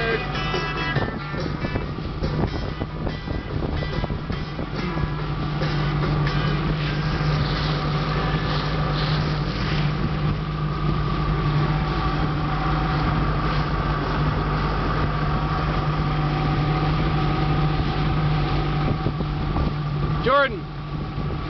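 A motorboat engine drones steadily throughout on the water during a May ride, a constant low hum with wind buffeting, while people chat and shout over it nearby.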